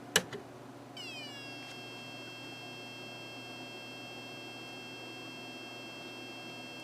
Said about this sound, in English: the whistle chip is oscillating, and it is producing a tone